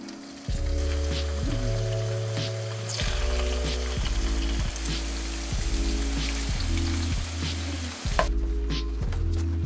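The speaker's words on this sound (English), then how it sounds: "And now it's time to fry it." Marinated barracuda fries in a pan aboard a boat, with a steady crackling sizzle and spattering pops filling the whole stretch, loud and close, over a low repeating hum.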